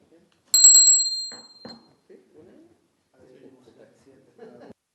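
A small bell rings once, bright and ringing, in a legislative committee session. It fades over a second, and then people speak quietly in the room.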